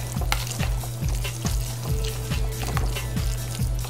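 Spinach and ricotta filling with eggs being stirred in a bowl, a regular rhythmic scraping and squelching roughly twice a second, close and moderately loud with no talk.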